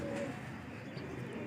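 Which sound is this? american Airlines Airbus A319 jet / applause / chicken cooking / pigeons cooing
pigeons cooing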